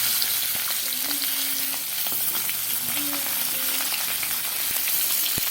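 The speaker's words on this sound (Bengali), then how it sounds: "এবার আমরা ছোট কড়াইতে দিয়ে আস্তে আস্তে করে ভাজা করবো।" Tilapia fish parcels fry in oil in a small pan with a constant crackling sizzle, sharp pops scattered throughout, close and steady without voices.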